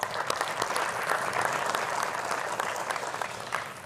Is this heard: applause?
yes